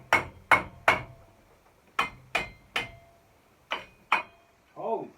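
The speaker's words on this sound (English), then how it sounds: "The wrench doubles as a hammer, mallet, as a wrench, everything else." A large wrench used as a hammer on the hydraulic and engine oil filters of a Kioti 2610 tractor, striking in eight sharp metallic blows in uneven groups, close and loud, with a brief squeaky scrape at the end.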